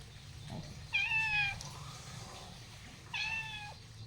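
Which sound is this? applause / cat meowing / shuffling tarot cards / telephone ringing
cat meowing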